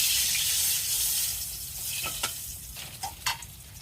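Dal, a kalai-type lentil, hits hot oil in a pan and gives off a loud, broad sizzle that slowly fades, with a few sharp stirring scrapes and clicks near the end. No one speaks.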